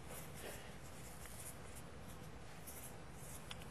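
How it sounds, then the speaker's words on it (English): Pen scratching a prediction onto the back of a roulette card, a steady soft scribbling that runs throughout at close range, with a faint tap near the end. "I'm going to write a prediction on the back of it"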